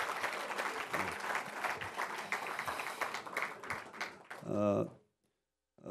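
Party members at a Democratic Party floor leader election applaud the floor leadership team, steady crowd clapping that swells and ends abruptly, followed by near silence.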